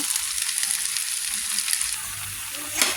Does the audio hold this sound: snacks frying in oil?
yes